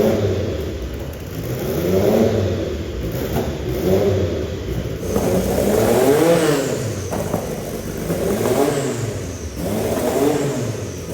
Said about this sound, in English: I've got some footage of them revving one of the Le Mans winning 917s.